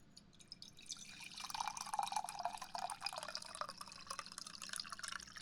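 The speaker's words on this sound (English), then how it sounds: "I like that this thing still gets bubbles, even though it's just juice" Juice in a glass fizzes with soft bubbles, a faint, steady crackle close to the microphone with no talking.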